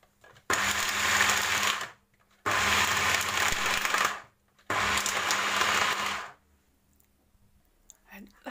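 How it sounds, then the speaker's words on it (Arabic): An electric grinder pulverizes roasted almonds in three loud, whirring bursts of about two seconds each, separated by brief pauses, ending in quiet. "دابا بعد ما حمرنا اللوز غادي نطحنوه، نطحنوه مزيان"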